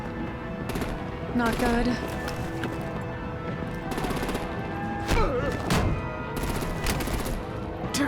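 Artillery gunfire rattles in Batman: The Enemy Within, rapid bursts of shots layered over constant battle noise and music, with a voice speaking briefly amid the din.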